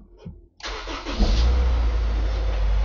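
A 1999 Honda S2000 2.0 with stock condition cranks briefly after a short silence, catches, and settles into a steady, loud, close idle with no talk over it.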